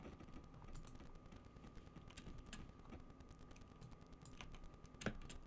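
Typing on a computer keyboard indoors, a quiet, steady patter of key clicks with a sharper louder keystroke near the end, nearly alone with no talk.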